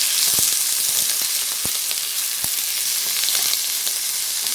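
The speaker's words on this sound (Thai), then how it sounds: "จะใส่มะระลงไปผัด" Salted bitter melon being stir-fried in a pan for a Thai stir-fry with egg, a loud, constant sizzle with sharp crackles and pops scattered throughout, with no voice over it.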